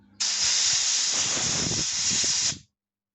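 Compressed air blasts through the passages of a Peugeot 103 carburettor in one steady, loud, close hiss lasting about two seconds before cutting off sharply.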